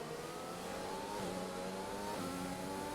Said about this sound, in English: Early downshift